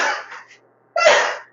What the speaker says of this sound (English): I sneezed in my arm.